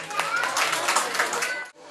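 An audience at a live music show claps to welcome a singer, a brief burst of brisk hand clapping with cheering voices, close and fairly loud before cutting off abruptly.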